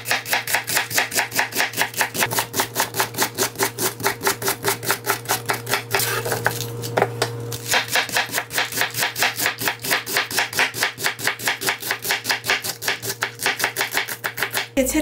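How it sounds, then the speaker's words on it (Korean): A knife shreds cabbage on a cutting board for a cabbage salad, a fast, steady run of crisp close chopping strokes with a brief pause in the middle, with no voices. "이거는 채를 먼저 한번 썰어 볼게요."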